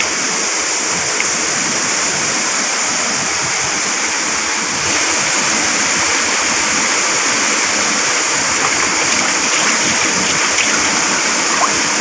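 Kashmir waterfall and fresh spring stream water rushing steadily, a loud, dense and continuous roar close by with no voices.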